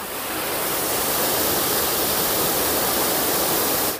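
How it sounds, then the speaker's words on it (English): Steady, dense roar of a Croatian waterfall heard from near the base, a loud continuous wash of falling water with no voices, easing slightly at the very end. "Quite an unexpected waterfall, this one."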